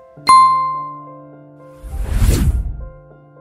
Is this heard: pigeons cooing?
no